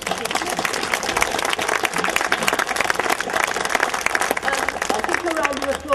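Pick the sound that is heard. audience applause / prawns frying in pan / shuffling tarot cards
audience applause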